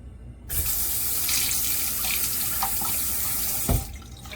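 A bathroom sink tap runs to rinse after shaving, a close steady rush of water that starts abruptly and cuts off just before the end.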